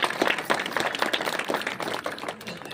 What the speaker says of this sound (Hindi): तो उनके लिए भी एक बार ताली बजा दीजिए लोग